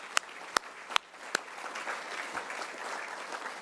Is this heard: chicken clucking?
no